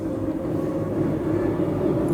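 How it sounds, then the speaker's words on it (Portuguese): A train rumbles steadily with a low, continuous drone, fairly close and unbroken, with no voices over it. "Um comboio."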